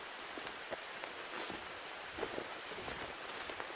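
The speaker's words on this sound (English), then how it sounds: "Look at all this rain." Rain patters steadily on leaves and surfaces at a wild forest campsite, soft and close, with scattered heavier drops and faint rustling but no voices.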